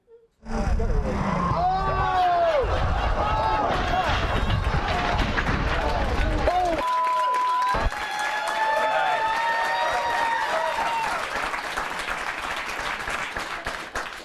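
A studio audience at a late-night TV talk show breaks into loud, dense clapping and cheering that fills the whole stretch, with voices mingled in the crowd noise.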